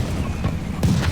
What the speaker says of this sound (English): It was artillery.